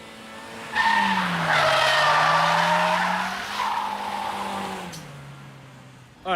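A front-wheel-drive car drifts sideways on a handbrake turn, its tires letting out a long, loud skidding squeal over the engine drone. The squeal fades as the slide ends.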